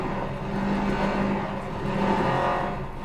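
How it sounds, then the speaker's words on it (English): Synthesized car engine sound from a video game prototype, a steady droning hum with slight pitch swells, heard alone at moderate level with no talking. "There you go, engine noise."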